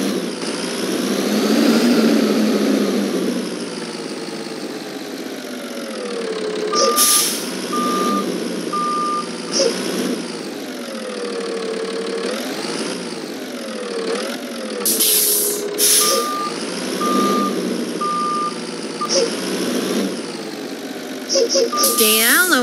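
A school bus in the driving simulator game Rigs of Rods reverses with a steady, repeated reversing beep over a droning, shifting engine, with air-brake hisses and a person talking over it throughout.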